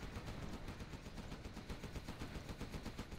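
A spinning-barrel Gatling gun from a video game fires a steady, rapid stream of rounds, a fast even rattle at close range running unbroken for several seconds.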